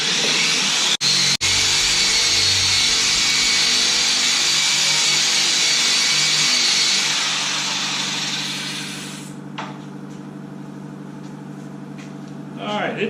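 A power sander with a 120-grit Scotch-Brite-like pad whirs steadily against a table top with a steel insert, a loud continuous hum that winds down near the end, followed by faint handling noises.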